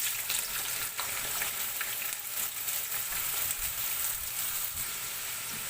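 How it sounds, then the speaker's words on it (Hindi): Onions sizzle in hot oil in a kadai, a dense and steady frying hiss that carries on without a break, close up and with no voices. "जी व्यूअर्स, हमारा तेल गरम हो चुका है। हम अब इसमें प्याज शामिल करेंगे।"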